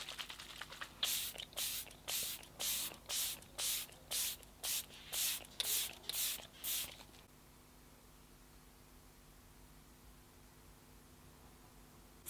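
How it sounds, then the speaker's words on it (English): About ten short, sharp pumps of Tarte setting spray misted onto a face in quick, even succession, close and crisp, followed by quiet room tone. "I'm going to go in with my Tarte Stay Spray Setting Spray."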